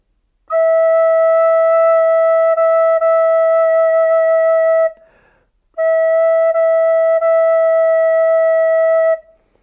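A pure, breathy recorder holds a low E steadily for about four seconds, stops briefly, then sounds the same note again.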